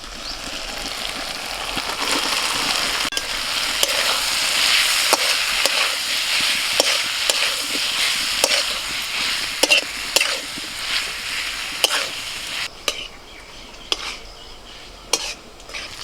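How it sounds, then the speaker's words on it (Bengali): Fried vegetables go into hot spiced oil while cooking lentils with vegetables and egg, giving a steady close sizzle with a spoon stirring and scraping the pan in regular knocks throughout, with no talking. "মশলা থেকে তেল ছেড়ে দিয়েছে, এবার ভেজে রাখা আনাজগুলো দিয়ে দিচ্ছি।"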